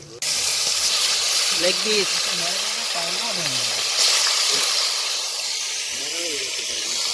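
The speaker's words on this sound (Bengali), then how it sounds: "আর এখনও অনেক বাকি পেঁয়াজ ভাজতে" Onions frying in oil for beresta, some already darkened from high heat, hissing and sizzling steadily at close range while someone talks over the cooking.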